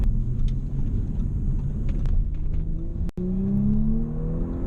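The turbocharged engine of a 2018 Audi S5 Sportback Prestige hums with a steady low rumble from inside the car on a rough road, then a rising whine builds as it accelerates, with no talking.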